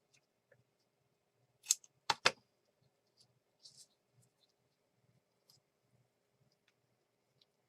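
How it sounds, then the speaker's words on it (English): Scissors snip through a scrap of paper while crafting a junk journal, trimming off a holed edge: a few quick, crisp cuts close by in a quiet room, followed by faint scattered rustles. "I'm going to cut off where the holes are"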